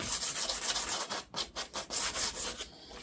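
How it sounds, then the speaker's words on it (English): Sandpaper is rubbed by hand along sharp edges and corners during a campervan build, making quiet, close, rhythmic scratchy strokes in quick succession. "So I get the sandpaper in there, give it a bit of a sand."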